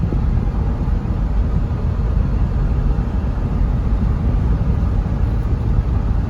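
A third-generation Toyota 4Runner cruises in fifth gear, its engine and road noise forming a steady, loud, unbroken drone from inside the cabin with no voices.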